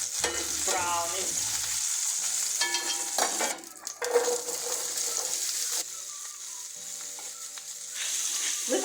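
Beef liver with carrots and onions frying in a pan, a steady close sizzle with stirring scrapes and clinks throughout, no voices.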